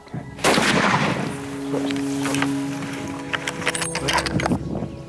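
A rifle fires at a Cape buffalo on a Tanzanian hunt: one sharp, loud report followed by a long rolling rumble and echo, with scattered thumps and rustling as the sound dies away.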